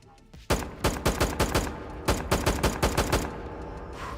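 Rapid third-person gunfire from a video game weapon, a burst of sharp repeated shots in an uneven rhythm, close and loud, with a short pause midway before another volley.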